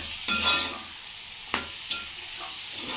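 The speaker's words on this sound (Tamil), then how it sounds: "கிளறு கிளறிக்கலாம் இந்த எண்ணெயிலே கொஞ்சம் வணக்கிக்கலாம்" Bitter gourd and tomato sautéed in oil sizzle quietly while a spoon stirs them. A loud scraping stir comes near the start and two shorter scrapes follow, all close by.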